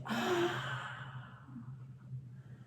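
A long, audible breath exhaled through the mouth during a chair yoga session, loud at first and then trailing off into quiet room tone.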